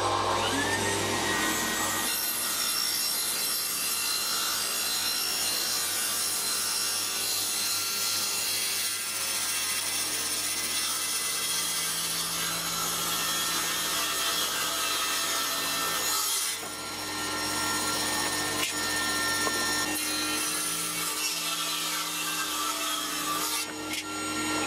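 A table circular saw cuts walnut for an end-grain cutting board, running as a loud, continuous whine with rough sawing texture throughout and a short dip partway through.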